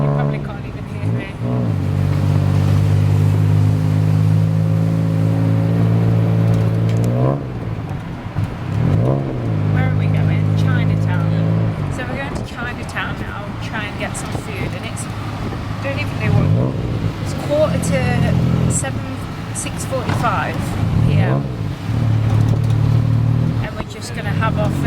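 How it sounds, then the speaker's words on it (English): Tuk-tuk riding through Bangkok traffic, its small engine droning and rising and falling in pitch as it revs and slows, with passing vehicles around and a voice talking over the noise. "So we're in a tuk-tuk right now"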